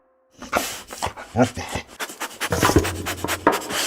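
Hunting dogs pant in quick, close, irregular bursts while digging among rocks for mongoose, with scraping and rustling mixed in and a brief voice in the background.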